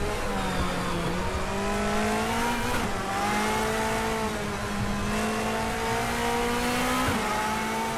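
Race car engine from the DTM Experience 2014 racing game at Motorsport Arena Oschersleben, a loud steady harmonic drone with brief dips around three and seven seconds as the car brakes late and downshifts, with no talking.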